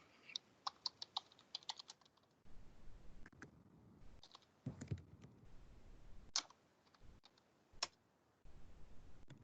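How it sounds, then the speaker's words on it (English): Bursts of typing on a computer keyboard during a Microsoft Teams walkthrough, quick clustered clicks and taps near and fairly quiet, with pauses between runs and a few sharper isolated key hits. "You notice I was just typing it in directly."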